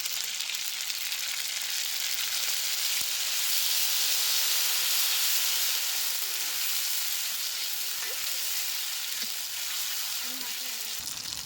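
A spice paste of garlic, chili, cumin, coriander and ginger fries in a pan with sour yogurt, giving a steady, loud hissing sizzle throughout with a few faint stirring knocks.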